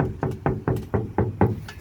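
Six evenly spaced hollow knocks on the bare rear door panel of a Ford Flex with no sound deadener, each thud resonating briefly, close and clear, with no talking.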